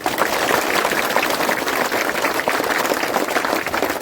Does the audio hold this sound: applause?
yes